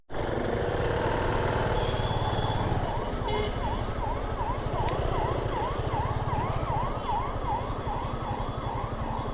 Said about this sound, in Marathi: मागे ॲम्ब्युलन्स आहे